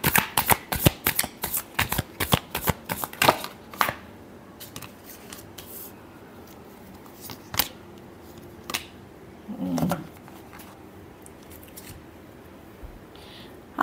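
Tarot cards being shuffled by hand produce a quick flurry of crisp riffling snaps, followed by sparse, softer card taps and slides with pauses between them.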